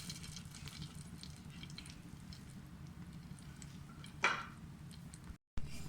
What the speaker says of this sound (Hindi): हल्की आंच में इसको फ्राई कर लें